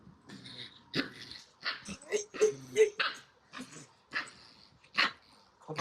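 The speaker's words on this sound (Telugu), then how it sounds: "ఏం కుక్క అనుకుంటున్నావు నువ్వు? కెన్ కోర్సు రా, కెన్ కోర్సు." A large Cane Corso dog barks several times up close, in short bursts mixed with people talking nearby.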